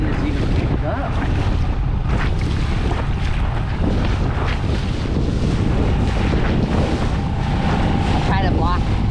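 Strong wind buffets a boat at sea, a loud, steady roar of gusts and wind noise on the microphone with water rushing beneath, continuous throughout with faint voices mixed in.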